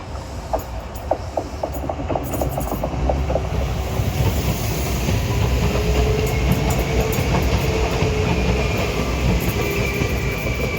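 A train rumbles past nearby in East London, steady low roar with rhythmic clicking of wheels over rail joints, building slightly and continuing throughout.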